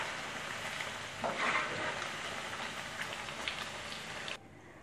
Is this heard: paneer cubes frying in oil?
yes